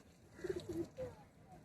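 Madras pigeons, a female among them, give a few soft, low coos in a short broken run, faint and close, over quiet background noise.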